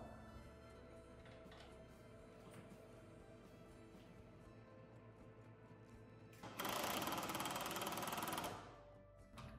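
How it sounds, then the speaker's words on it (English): A screw is tightened down on a door closer arm during a storefront door installation, heard as a faint steady mechanical hum followed by a loud two-second burst of whirring that then stops. "the last part is just to tighten this screw down here and our arm's installed"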